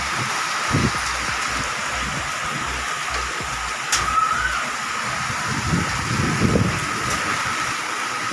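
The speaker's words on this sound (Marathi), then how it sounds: "गारावणी पाऊस आणि वारा" Steady rain patters and hisses outdoors in wind, with occasional heavier thuds of falling hail; continuous, moderately loud, no voices.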